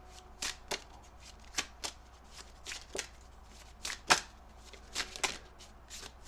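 Tarot cards being shuffled by hand in a quiet room, a series of soft, crisp riffling bursts at irregular intervals.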